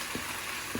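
Tomato and onion fry in a pan with a continuous even sizzle, close and moderately loud, and two soft scraping stirs.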